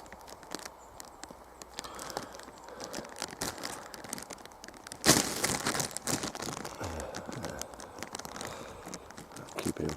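A plastic bag holding a small woodland mammal crinkles and rustles close by, with soft irregular crackles throughout and a louder crumpling burst midway, faint overall with no talking.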